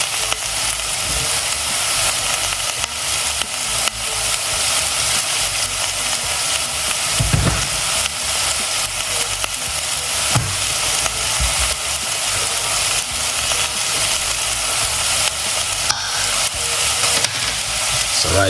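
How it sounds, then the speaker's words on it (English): Gnocchi frying in a pan for a homemade gnocchi dish with tomato sauce, giving a steady, loud broadband sizzle that runs without a break. There are occasional soft stirring thumps and no talk. "frying."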